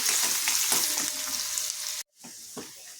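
Finely chopped garlic with cumin and asafoetida fries in hot oil, a steady close sizzle with occasional stirring scrapes, briefly cut off near the end before the frying resumes.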